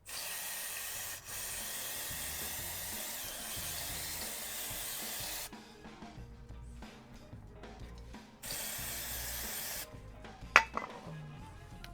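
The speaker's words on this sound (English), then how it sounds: "So piece of rag and some brake cleaner." Brake cleaner sprays onto a Ducati Hypermotard motorcycle oil filter in two long, loud, close hissing bursts, followed by quieter handling noises and a sharp clink near the end.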